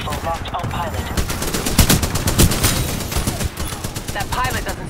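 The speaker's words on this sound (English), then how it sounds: "Splitter rifle locked on pilot." Rapid bursts of splitter rifle fire from a Titan in Titanfall 2 on the Canal map, a dense stream of sharp shots over battle noise with brief louder cracks in the middle.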